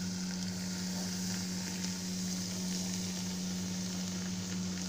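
Hot tea poured over a heated clay kulhad set inside a larger vessel for tandoori chai gives a steady, moderately quiet sizzle with constant hiss and no talking.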